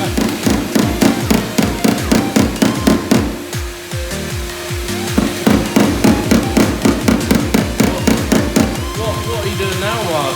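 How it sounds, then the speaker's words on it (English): Rapid, sharp hammer blows on filler during a dent repair on an Audi Q3 panel, struck in fast repeated bursts close by with a brief pause, then a quick rattling patter. "Why are you hitting it with a hammer after you put the filler in, Mark?"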